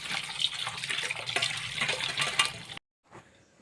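Water splashing and running over cut fish pieces being washed by hand, a close, continuous gushing and sloshing that stops abruptly, then a brief faint trickle.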